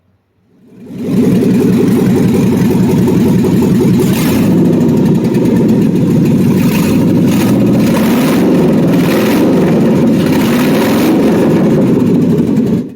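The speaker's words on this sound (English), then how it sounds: "Right here, it's running on open headers." An LS-swapped OBS Chevrolet Silverado V8 starts and settles into a loud, steady idle on open headers, a close, throbbing rumble with no exhaust fitted, continuing alone throughout.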